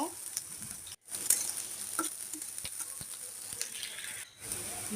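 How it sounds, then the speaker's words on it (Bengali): Chopped onions sizzle steadily in hot oil with cumin seeds and bay leaf for a pangas fish curry, with soft stirring scrapes and a couple of brief pauses in a close, continuous fry. "তারপর পেঁয়াজ দিয়ে দিচ্ছি, হালকা ভাবে ভেজে নেব।"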